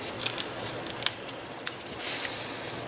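Scissors snipping through cardboard while trimming an upcycled box: a few sharp, close, faint cuts scattered over a quiet background, with no talking.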